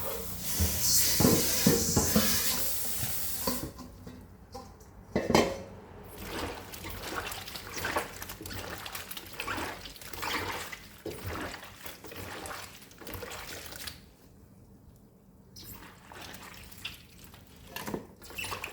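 Kaffir limes are rinsed in water, with trickling and splashing that is loud and hissy at first, then gives way to intermittent sloshes and drips, and a voice talks in between.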